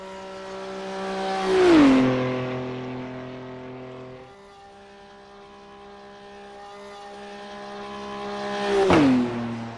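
A BMW race car in a racing video game laps Le Mans, sweeping past twice with rising and falling Doppler engine tones and a quieter stretch between the passes.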